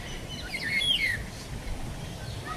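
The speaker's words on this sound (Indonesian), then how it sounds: "Tuh kakak tua hijau" A green parrot calls inside a zoo's walk-through bird dome, giving a short pair of high, thin whistled notes over a steady hum of background noise, with faint distant chirps from other birds.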